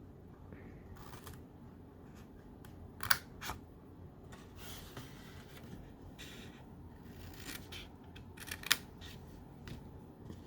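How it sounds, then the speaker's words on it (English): Scissors cut cardstock along a score line for an Easter treat holder, producing quiet crisp snips and papery rustling with a couple of sharper clicks over soft background noise. "And I'm going to cut that right on the score line."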